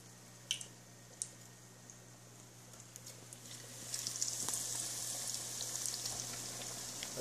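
Grouper steaks frying in hot oil, a steady low sizzle with scattered soft pops that grows a little louder and denser partway through, heard close with no talking.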